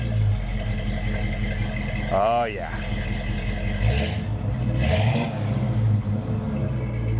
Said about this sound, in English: An old International Scout. You wanna hear it?